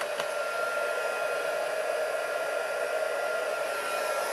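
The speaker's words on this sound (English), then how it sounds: "zap up the heat gun" Heat gun blowing hot air for embossing powder over a cheese board, a steady, close whooshing roar with a constant tone that holds evenly from start to finish with no talking.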